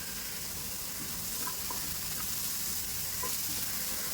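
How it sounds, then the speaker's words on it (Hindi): Chopped vegetables sauté in a pan seasoned with fresh black pepper and salt, giving a steady, close sizzle with faint scraping stirs throughout and no voices. "और इसको अब हम हल्का सा इस तरीके से सौटे कर लेंगे।"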